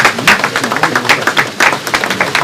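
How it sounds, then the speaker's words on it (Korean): A crowd applauds at a political party event in South Korea, a dense burst of many hands clapping close and loud, with a faint voice underneath. "박수 한번 부탁드리겠습니다."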